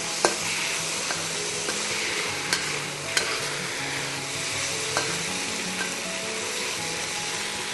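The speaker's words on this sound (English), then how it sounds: "And I'll just mix in the bitter melon. Have a nice final toss." Beef and bitter melon stir-fried in a hot pan, a steady loud sizzle with a few sharp clicks and scrapes of the utensil tossing the food, no voices.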